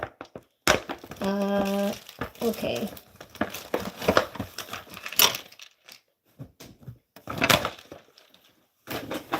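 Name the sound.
crinkling packaging being opened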